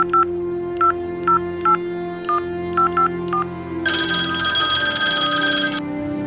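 A telephone number is dialed with a series of short touch-tone beeps in an irregular rhythm, then a loud continuous electronic ring starts and holds for about two seconds before cutting off.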